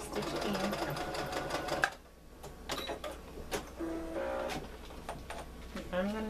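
A sewing machine stitches bias tape in a steady mechanical whir, stopping briefly for a pause, then resuming in short bursts with clicks, likely back stitching to secure the seam, close and moderately loud.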